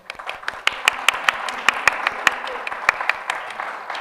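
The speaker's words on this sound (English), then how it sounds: "Please, big applause for our authors." Audience applause for the authors at the opening ceremony of the Balkan University Press: a steady patter of many hands clapping with sharp individual claps standing out, sustained for several seconds at moderate loudness.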